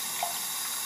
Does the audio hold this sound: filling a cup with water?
yes